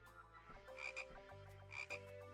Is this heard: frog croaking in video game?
yes